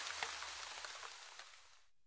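Steady rain pattering outside a tent, a soft even hiss of drops on fabric that runs continuously and then cuts off abruptly near the end, with no voices.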